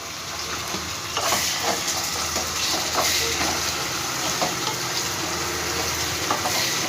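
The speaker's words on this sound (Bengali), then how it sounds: "ভালো করে টমেটো পেঁয়াজটাকে আমি একটু ভেজে নেবো" Onion and tomato frying with salt in a pan for egg keema curry masala, a steady close hiss and sizzle with occasional soft stirring scrapes throughout.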